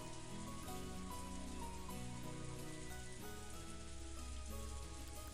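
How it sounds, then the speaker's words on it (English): Strong wind and rain from the Umineko visual novel make a steady, dense hiss of rainfall under a soft musical backdrop, with no pauses. "The wind and rain were strong."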